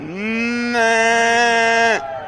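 A human voice imitates a calf's moo: one long, nasal, drawn-out call that swells slightly louder partway through, heard up close.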